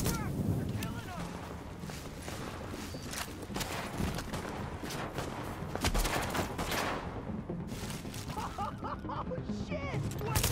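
Gunfire in The Division on PS4, a dense stretch of rapid shots and bursts running throughout, loud and close, mixed with shouting voices and game effects.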